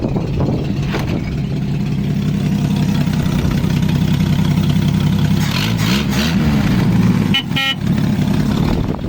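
A rusty Dodge D300 "Swamp Donkey" pickup truck engine running with a steady low rumble close by, briefly revving, with a short horn toot near the end.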